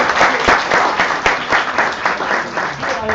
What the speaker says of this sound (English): One more clapping.